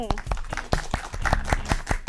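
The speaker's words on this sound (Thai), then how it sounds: "ขอเสียงปรบมือต้อนรับเชฟมนค่ะ" Applause greeting a chef arriving at a televised baking show, with distinct individual claps in a quick uneven rhythm from a small group, close and crisp.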